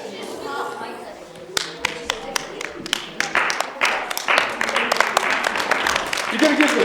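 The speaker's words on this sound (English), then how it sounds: "Okay, give the sticks an applause." Applause breaks out from a group, a burst of sharp claps starting sparse and then thickening into continuous clapping that grows louder toward the end, with some voices mixed in.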